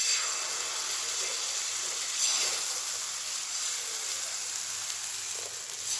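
Pitha rice cakes sizzle in an oiled pan with a steady, bright hiss of frying, close by and continuous, with no voices over it.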